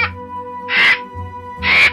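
A crow in an animated children's story gives two loud, harsh caws about a second apart, each standing alone against a steady musical drone.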